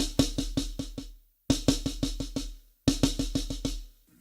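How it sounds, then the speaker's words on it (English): A drum kit plays a paradiddle-diddle rudiment in three crisp, evenly spaced phrases of six strokes each, every phrase ending in a clean stop before the next begins; close, loud and with no talking. "having the paradiddle diddle that sounds like this"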